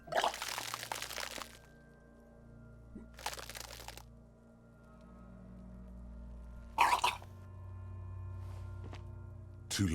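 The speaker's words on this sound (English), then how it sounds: "Your body curls and pushes it out, burst by burst, until a pool of vomit lies under your feet" A video game character in Disco Elysium vomits in several wet, splattering bursts spaced a few seconds apart, loud and close, with a liquid gush and crunchy spatter in each burst against a low background hum.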